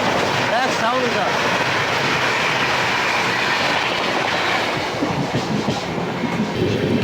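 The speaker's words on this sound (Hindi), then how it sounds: "क्या गजब का ओवरटेक मार के गई भाई तेजस राजधानी" The Bhubaneswar–New Delhi Tejas Rajdhani express roars past at speed while overtaking, a loud close rush of wheels and wagons with rhythmic clickety-clack and some high metallic squeal.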